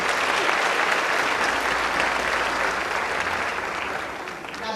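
Sustained applause from a festival ceremony audience at the Ecrans Noirs film festival, a dense, loud wash of clapping that holds steady for about five seconds and eases slightly toward the end, with no talk over it.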